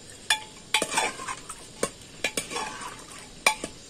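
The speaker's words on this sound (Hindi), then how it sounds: "हम अच्छे से चला लेंगे।" A spoon stirring chicken curry with yogurt in a pot, a series of irregular scraping clinks and sloshing strokes, close and fairly loud, with no talking.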